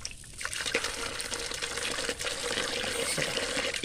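Water gushes steadily into fish feed, thinning it into a liquid fertilizer for garden plants, a continuous splashing pour with no one speaking.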